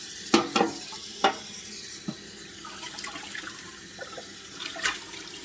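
Cold tap water runs over a copper pan being rinsed in a kitchen, a soft steady wash broken by a few sharp clinks and knocks of the pan, close and fairly quiet, with no talking.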